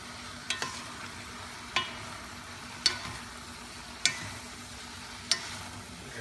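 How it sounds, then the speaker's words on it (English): Bicol Express, a pork dish, fries in a pan as it is mixed. A soft, steady sizzle runs underneath while five distinct scrapes and knocks of the spoon land about a second apart, close by and fairly quiet. "Let's give it a good mix."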